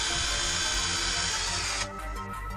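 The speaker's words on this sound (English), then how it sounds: "to get your masonry bit, drill a hole through a mortar" A power drill fitted with a masonry bit boring a hole into wall mortar, a loud close whining buzz that runs steadily and then cuts off abruptly, leaving a softer winding-down hum.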